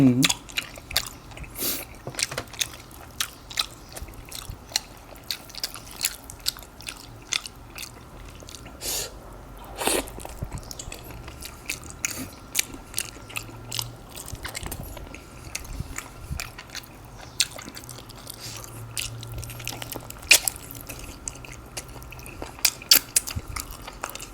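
Someone chews crunchy boiled beef feet tendon with a run of quiet, irregular crisp crunches and moist bites near the mouth, plus a faint murmur in the background.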